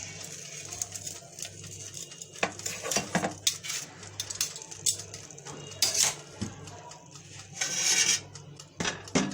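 Grilled chicken being turned over in an air fryer basket, with scattered metallic clinks and utensil scrapes over a faint background hum, occasional louder clatters near the end.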